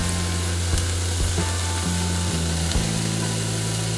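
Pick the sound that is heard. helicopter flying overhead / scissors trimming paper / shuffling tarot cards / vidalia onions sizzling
vidalia onions sizzling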